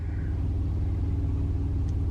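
A Porsche engine runs at a steady, low idle, a close, even rumble with a faint pulsing throb and no revving or speech.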